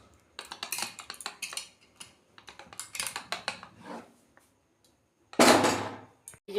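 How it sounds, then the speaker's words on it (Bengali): A lid is set down on a pressure cooker holding chana dal with salt and turmeric, making a series of light metallic clicks and taps followed by one louder clattering clank near the end, close and with no talk. "এই যে আমি ঢাকনা বন্ধ করছি।"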